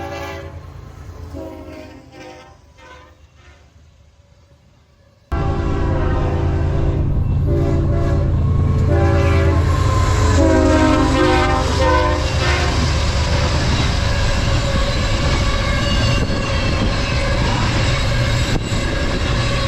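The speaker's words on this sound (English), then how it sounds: "we got another westbound intermodal with yet another friendly crew" A westbound intermodal freight train rolls past close by, loud and sustained after a quieter lead-in, with rumbling wheels, rattling cars and horn blasts.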